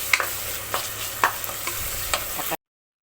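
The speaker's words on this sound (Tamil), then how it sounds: "நல்லா வதங்கிடுச்சு பாருங்கள் தக்காளி வெங்காயம் பூண்டு எல்லாம் போட்டுக்குவோம்" Tomato, onion and garlic sauté in a hot pan with a steady sizzle, broken every half second or so by brief scraping strokes of a stirring spoon; no talking.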